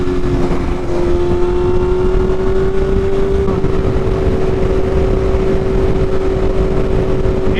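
A motorcycle at a bike meetup speeds up to catch other riders, its engine a loud, steady, close-up drone that climbs slightly in pitch before holding, heard alone without any talk.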